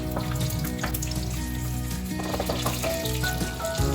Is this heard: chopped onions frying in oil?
yes